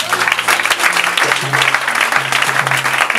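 A church congregation applauds loudly and steadily throughout, dense clapping with a sustained tonal hum, likely organ or keyboard, running underneath.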